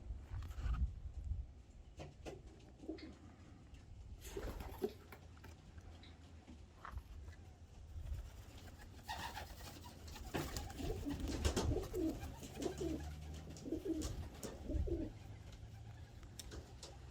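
Domestic pigeons coo softly in a loft, with faint intermittent calls and wing flutters over light background rustling and ticking, fairly quiet and close.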